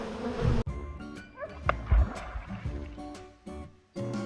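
Honeybees disturbed at a backyard hive buzz in short, agitated bursts close to the mic, broken by brief pauses and faint rustling handling noise.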